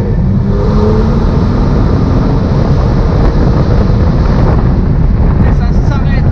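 A Porsche 911 Turbo S 918 Spyder Edition accelerates at full throttle through third and fourth gear, a steady, loud engine-and-wind roar heard from inside the cabin.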